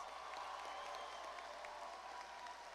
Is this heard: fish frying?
no